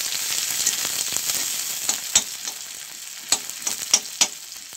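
Three small chopped onions drop into hot oil and fry with a steady, close sizzle, broken by a few sharper pops and stirring clicks.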